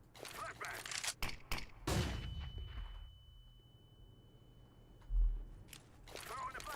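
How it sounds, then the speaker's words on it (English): Flashbang grenade thrown in the Counter-Strike game, a sharp burst of loud noise followed by a fading ringing tone, with a muffled thud later and broadband game noise around it. "Throwing a flashbang."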